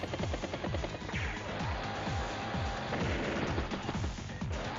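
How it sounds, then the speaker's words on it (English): Artillery strike in the turn-based war game Advance Wars: Days of Ruin: a steady run of heavy, repeating booming impacts under a dense, loud wash of battle noise, with no pause across the stretch. "Artillery gets a good strike there as well"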